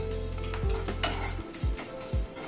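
Ground spices for a paneer curry are stirred in a hot pan with a spatula. Steady sizzling runs under a few scraping strokes and soft clinks of the pan, close up, with no speech.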